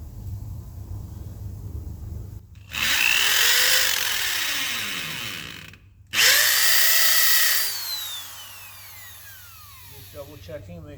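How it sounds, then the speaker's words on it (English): A power drill with a 3/16 carbide bit boring holes through a plate held tight against a post, in two loud bursts separated by a short pause, with faint handling noise before and after. "we simply hold that plate down tight and go in with the carbide bit. It's a 3/16 carbide bit."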